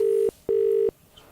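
Two electronic telephone ring tones sound close and loud through a phone line on an outgoing call, a short burst followed by a longer one, then quiet.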